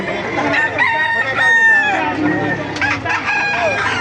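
A Claret gamefowl rooster at a busy chicken market in Baliuag crows loudly and close by, with a long drawn-out call followed by another crow and some clucking amid market bustle.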